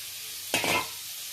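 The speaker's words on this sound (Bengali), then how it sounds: "এঁচোড়টাকে ভাজা হয়ে গেল।" Chopped jackfruit frying in a pan, a brief burst of sizzling and scraping at mid-clip against a quiet kitchen background.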